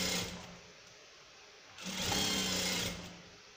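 Domestic sewing machine stitching along one side of a fabric piece, a steady mechanical whir that runs lightly, then swells louder for about a second before easing off, with no talking.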